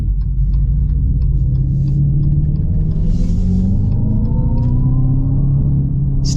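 A 2025 Dodge Charger Daytona Scat Pack in track mode gives off a deep, steady rumble with a rising synthetic whir layered above it, loud and close for several seconds with no talking.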